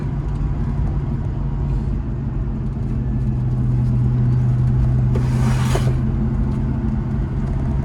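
A 30-year-old Land Rover Discovery engine pulling steadily in third gear on the road, a continuous low drone with a brief hiss of road or wind noise near the middle, no talking.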